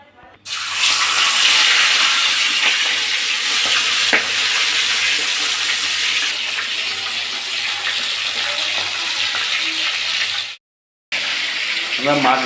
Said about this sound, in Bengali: এবার মাছ ভাজা চলছে